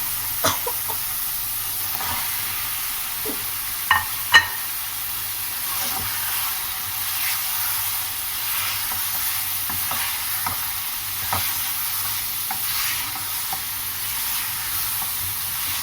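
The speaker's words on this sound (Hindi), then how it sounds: "अब अच्छे से मसालों को भून लीजिए।" Masala stir-fried in a pan for beef kabab masala, a steady low sizzle with scattered scrapes and two sharper clacks of a spoon against the pot, no talk over it.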